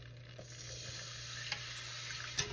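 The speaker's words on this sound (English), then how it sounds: "Whisk it up till it's thick." Milk is whisked into a flour roux in a pan for mac and cheese: a quiet, steady scraping and bubbling hiss with a few soft clicks of the whisk, no voices.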